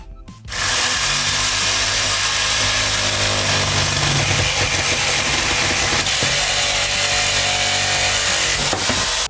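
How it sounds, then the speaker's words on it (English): A reciprocating saw fitted with a metal blade cuts through the nails in pallet wood. After a brief quiet start, its loud, harsh, buzzing cut kicks in and continues steadily at close range. "use a reciprocating saw just to cut the nails that go through"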